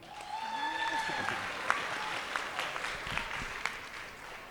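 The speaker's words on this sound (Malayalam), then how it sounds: "മൃദുലിന് വേണ്ടിയിട്ട് എല്ലാവരും ഒന്ന് കൈയടിച്ച്." A gathered crowd at an Onam general body meeting applauds for a member, a moderate, fairly distant clapping spread through the room with a few sharper individual claps and some background chatter.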